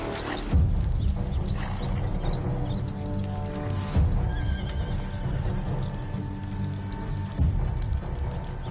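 A horse whinnies loudly and repeatedly while hooves clip-clop nearby, the neighs rising over a busy, steady background.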